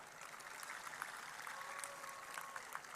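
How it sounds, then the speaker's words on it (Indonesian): An audience at the Indonesia Awards 2022 ceremony claps steadily and fairly faintly for a few seconds, a crisp, even patter with no talking over it. "Kita berikan tepuk tangan."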